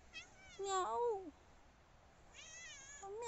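A female cat meows several times at close range with rising and falling tones, during a walk toward the beach.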